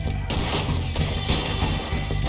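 Gunshots ring out in the western game Red Dead Redemption 2 during a snowstorm, a loud layered volley of booms and cracks over a dense, rumbling background.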